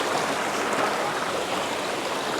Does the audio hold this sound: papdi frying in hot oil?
no